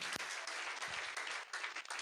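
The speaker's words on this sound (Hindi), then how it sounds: "आप लोगों की तालियों का हो जोर ऊंची, जोर से" Dense applause from a crowd, steady clapping throughout with no voices.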